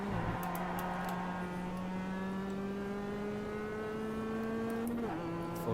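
A race car engine in the iRacing sim accelerates hard out of a corner, one smooth rising whine climbing through the gear, then a brief shift and the pitch resumes near the end.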